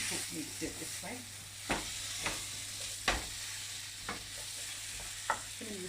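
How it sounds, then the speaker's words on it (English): Potatoes are stirred and tossed to coat them in a frying pan, a steady sizzle with several scraping and knocking strokes from a utensil against the pan, close by. "Next thing I'm going to do is throw the potatoes in."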